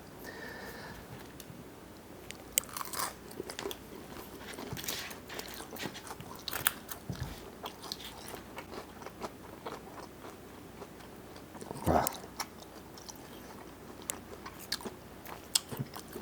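Hard, crackly Korean fried chicken is bitten and chewed up close, giving repeated loud crunches and scraping chews with no talking.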